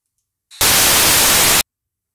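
Noise run through a low-pass filter script, a single burst of steady hiss about one second long, with a faint brief blip just before and silence around it.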